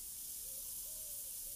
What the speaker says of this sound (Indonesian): Selanjutnya bisa langsung aja kita goreng di minyak yang udah panas.